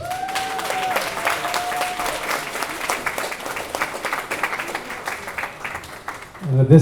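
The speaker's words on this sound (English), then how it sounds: "Let's hear it again for Steve, folks." Wedding guests at a reception at Azalea Lodge in Winter Park, Florida, break into loud, steady applause and cheering after a toast, filling the room for several seconds before a voice begins to speak.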